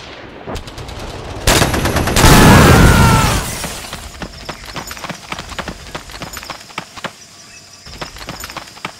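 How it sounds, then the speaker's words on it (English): Rapid machine gun bursts in a toy army stop-motion battle, loud sharp repeated cracks in a dense volley followed by a roaring blast, then scattered lighter shots continuing with no talk. "Someone take out that machine gun."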